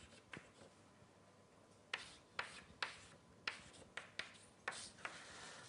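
Chalk tapping and scratching on a lecture board, a faint series of about eight crisp strokes after a near-silent opening, each with a brief scrape.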